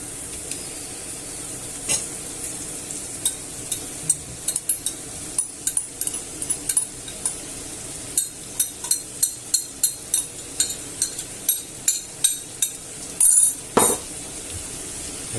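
Tuna and tomato sauce stirred in a sizzling pan, a steady hiss under repeated scraping and clinking strokes of a utensil against the pan, close and rhythmic, with no talking.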